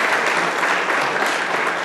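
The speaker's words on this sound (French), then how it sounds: "sous vos applaudissements" A French-speaking audience at a welcome presentation applauds as a presenter steps forward, giving a dense, even burst of many hands clapping throughout.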